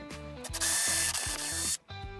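A German-made 4x100 posi-head screw being driven by a power driver into a pilot hole in wood for a candle sconce, several short whirring bursts with a rising pitch as it bites, close and clear.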